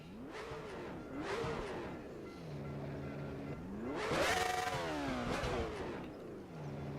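Prototype race car engine in the R3E racing sim, revving hard with rising and falling pitch sweeps through gear changes, loud and continuous with a peak of full-throttle acceleration near the middle.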